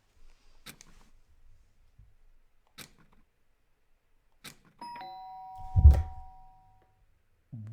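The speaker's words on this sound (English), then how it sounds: "somebody's ringing on the doorbell" A doorbell chime rings in the video game Danganronpa: Trigger Happy Havoc, a clear tonal ding amid sparse game clicks and a low thud, otherwise quiet.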